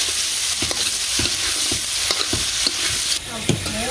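Food being sautéed in a pan ahead of adding khichuri, a steady loud sizzle running throughout with repeated scraping stirs of a spatula against the pan, no voices.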